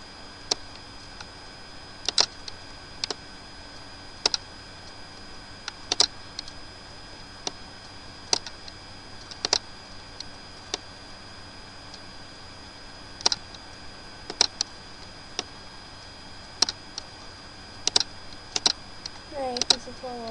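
Computer keyboard keys pressed in sparse, irregular single clicks and short clusters, crisp and close, over a steady faint background hum.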